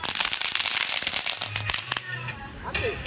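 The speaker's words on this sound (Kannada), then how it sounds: "ಪಟಾಕಿ ಹೊಡಿತಿದ್ದಾನೆ ನೋಡಿ" Firecrackers are set off outdoors during Diwali, giving a rapid series of sharp cracks and pops, some loud and close, while people talk over the bangs.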